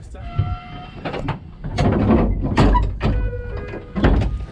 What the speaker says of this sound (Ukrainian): І вийшло так, що ми вже запригували в їдучий потяг